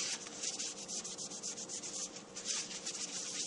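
A bit of goop is wiped off a part of a RepRapPro Huxley 3D printer, giving a soft, continuous rubbing swish up close, faint and steady with slight rhythmic strokes and nothing else around it.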